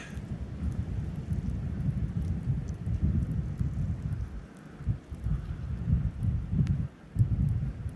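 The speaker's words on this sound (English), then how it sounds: "Got some wind going up there." Strong gusting wind during a wet late-winter snowstorm on a farm, a steady low roar that rises and falls in uneven surges, close and loud, with brief lulls and no voices.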